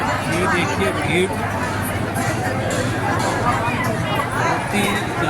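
Massive crowd packed near the Bhairav temple, a loud, unbroken hubbub of countless overlapping voices close by, steady throughout with no single voice standing out.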